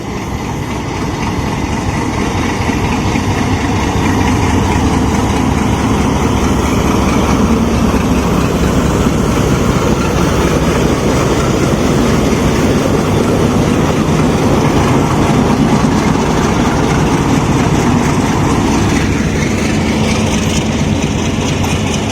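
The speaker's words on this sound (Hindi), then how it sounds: "सर सैयद एक्सप्रेस 35 आपको लेके फैसलाबाद से रवाना हो रहा है।" The Sir Syed Express pulls out of Faisalabad station, a loud, continuous rumble of engine and rolling wagons with a rhythmic rail clatter running throughout, heard close from on board.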